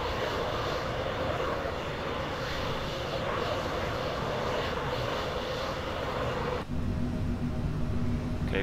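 Steady jet engine roar of a Eurofighter Typhoon in a flight simulator, a dense continuous thrust drone that shifts slightly in tone near the end as power is adjusted.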